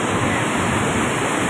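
Water rushing at speed at Bhim Kund, a waterfall site in Mayurbhanj, Odisha, makes a loud, steady, broadband roar that fills the whole moment without a break.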